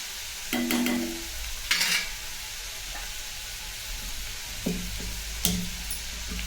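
Bitter gourd pieces sizzle steadily in hot oil in a home kitchen pan, a constant frying hiss broken by a few louder scraping stirs of a spoon.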